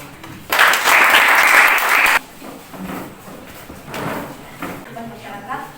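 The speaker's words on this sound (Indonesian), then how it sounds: "Kasih dulu aplaus untuk kelompok 6" A classroom group receives a burst of clapping from the audience, loud and dense for about two seconds, then fading into quieter room noise with scattered voices.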